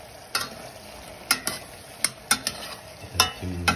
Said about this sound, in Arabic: ننزل بقى بالبصل.